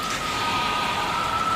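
Steady rain falls as a dense, even hiss, loud and continuous, with a faint tonal whine running beneath it.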